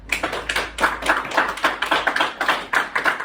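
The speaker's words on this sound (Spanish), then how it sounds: "¿Te animas a darle un aplauso a Jesucristo?" Rhythmic clapping from a church congregation during a sermon, an even beat of about three claps per second, fairly close and clear, with no talk over it.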